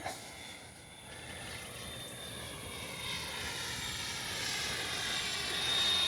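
A Freewing A-6 Intruder 80mm EDF RC jet on its maiden flight gives a steady, rising ducted-fan whine and rush that grows louder over several seconds as it approaches, with no voices.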